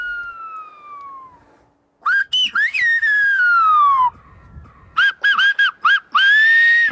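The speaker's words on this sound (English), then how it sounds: "by whistling, a unique language which is exclusive to the island." Sharp, piercing whistles of the Canary Islands whistled language in varied gliding and rising tones, several long calls followed by quick short bursts, loud and clear.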